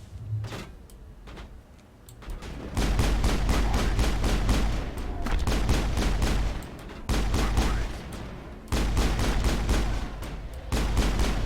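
Gunfire in the sci-fi shooter game Mass Effect, loud dense bursts of rapid shots that come in several sustained volleys with brief pauses between them, and no talking over it.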